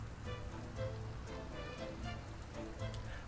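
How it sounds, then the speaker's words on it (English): Rain falling in Minecraft, a soft steady patter and hiss of drops, faint and continuous with a few brief tonal game sounds mixed in. "all of a sudden, the rain makes sense"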